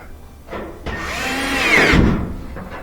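A power driver whirs in short bursts as it tightens screws back into the frame of a gas dryer, spinning up briefly, then running a longer rising whine before stopping, close and fairly quiet, with no speech.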